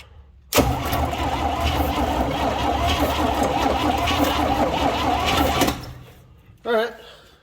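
The starter cranks the engine of a 1965 Chevrolet C10 shop truck that has sat for many years, a loud steady whirring for about five seconds that stops abruptly, followed by a short voice.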